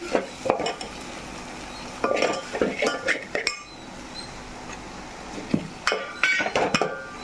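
Boiled taro root pieces frying with turmeric and chili powder in a pan are stirred close by, with irregular metallic scrapes, clinks and knocks of the utensil over a faint sizzle.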